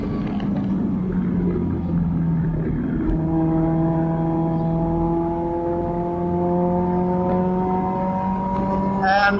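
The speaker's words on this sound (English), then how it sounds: "Braking in a straight line first for a long time, waiting for a while, and then a proper big blip to match the revs properly." A Caterham Supersport race car engine drones loudly from the cockpit, falling away under braking and then climbing steadily in pitch as the revs rise through a downshift.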